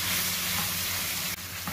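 Beef sizzling in a pan with zucchini noodles, a steady close frying hiss and crackle that dips briefly toward the end.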